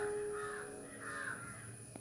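A mother bird calls beside a nest of chicks that has fallen from a balcony, giving harsh cawing cries that are faint and distant over a steady background hum.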